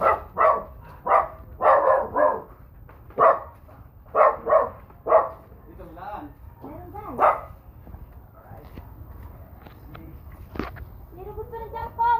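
Repeated dog barks in short bursts, several dogs nearby, with a few quieter yips and some background talk toward the end.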